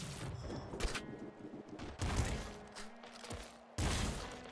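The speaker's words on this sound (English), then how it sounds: "I don't know what's going on with the explosions right now" Repeated explosion blasts and gunfire in the roguelike shooter Nuclear Throne Ultra Mod, with three loud bursts separated by busy, clattering game effects and no speech.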